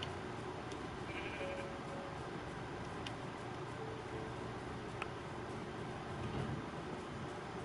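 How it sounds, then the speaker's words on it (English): Bleating from a sheep in the video game Minecraft, a few short bleats rising over a faint, steady background hiss with light ticking, no voices present. "Hey, sheepy. Actually, I should probably grab that sheep,"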